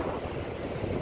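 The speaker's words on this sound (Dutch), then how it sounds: "En een enorme wind, hè?" Strong wind buffets the microphone on the beach at Castricum aan Zee, a steady loud rumbling roar with surf mixed underneath and no voices.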